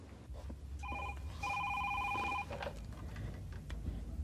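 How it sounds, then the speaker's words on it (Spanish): A telephone rings twice in a quiet indoor room, two electronic ring bursts with a short gap between them, fairly loud and clear over a low background hum, with no talking. "sonó el teléfono"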